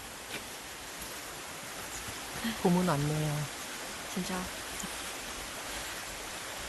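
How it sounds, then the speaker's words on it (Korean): Steady broadband rushing of a flowing mountain stream fills the background, with people talking briefly over it. "계곡물 소리"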